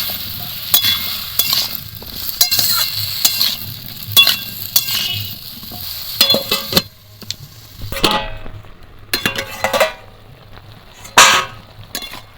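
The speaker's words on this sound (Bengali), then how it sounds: "লবণ এবার ঢাকা দিয়ে একটু সবজিগুলো ভাজবে" Washed mixed vegetables with salt fry in a covered pan for a Bengali vegetable curry, a soft sizzle under repeated sharp clinks and scrapes of a spoon and lid that turn sparser and more separate toward the end.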